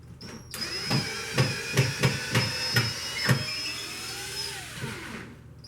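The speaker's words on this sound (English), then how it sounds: "take your screw gun and remove the side panels" A power screw gun backs screws out of the side panels of a lobster tank. A steady motor whine carries a series of about seven sharp, buzzing bursts, and the gun then spins down.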